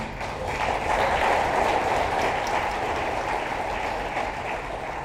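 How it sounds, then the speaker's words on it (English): A round of applause for prize sponsors at a morning briefing of the Bodyflight World Challenge 2016 indoor skydiving competition, a steady wash of clapping from a gathered crowd, moderately loud and sustained across the whole stretch. "Big round of applause for them."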